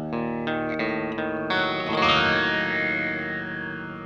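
An electric guitar played through an EQD Interstellar Orbiter effects pedal. A few plucked notes lead into a held chord that swells and then fades with a sweeping, filtered, echoing tail, with no talk.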